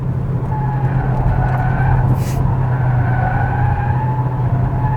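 A 2020 Hyundai Kona Hybrid takes a corner, its steady road and engine drone filling the cabin, with faint tyre squeal rising and falling over the continuous low hum; no talking.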